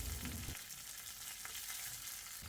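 Mustard seeds, dried red chillies and curry leaves crackle and sizzle in hot coconut oil, a steady close frying hiss with a brief louder burst at the start and end.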